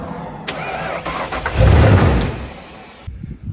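Engine of a 1995 Ford Bronco, parked for years, starting on starting fluid: a cranking whir that catches into a loud roar near the middle, then cuts off abruptly, followed by faint rattles.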